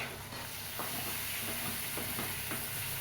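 Mango pulp sheera being stirred with milk in a pan, a steady soft scraping and bubbling sizzle running continuously at close range with faint periodic stirring strokes.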